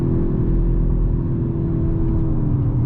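A 2022 Hyundai Elantra N engine drones steadily in third gear during spirited mountain driving, a loud, low, continuous rumble with no shifts.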